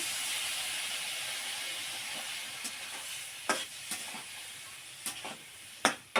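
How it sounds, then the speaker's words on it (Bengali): Spices and radish cooking in a pan give a soft, continuous hiss and sizzle, broken by several sharp stirring clicks and scrapes toward the end. "মশলাটা আমার কষানো হয়ে গেছে, দিয়ে দিন মূলা। দিয়ে আমি কষাই নিব।"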